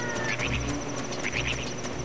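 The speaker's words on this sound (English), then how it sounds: "there's a bird infestation that I should probably destroy and murder" Birds in the video game The Legend of Zelda: Ocarina of Time, repeated quacking, squawking calls over steady background game music.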